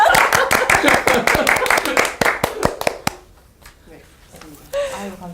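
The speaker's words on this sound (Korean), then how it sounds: "박수." Clapping from a studio audience on a Korean TV employment news program, a brisk run of distinct hand claps for about three seconds that stops abruptly, followed by near silence and a brief voice.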